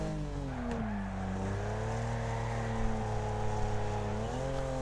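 Racing cars driving in Wreckfest, a continuous engine drone with tonal harmonics that dip and rise as the cars shift and accelerate around the track, steady and fairly loud throughout.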